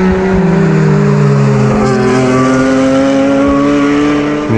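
Tėvas Racing race cars screaming around the Nemuno Žiedas circuit, a loud, sustained high-revving engine note with shifting harmonic pitch and brief gear-change dips, close and continuous with no talk.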